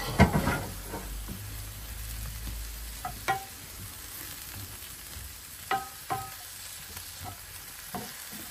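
Croziflette warming in a pan over a pizza oven fire, stirred regularly: a low sizzle with scattered scraping and knocking utensil strokes, close and without speech.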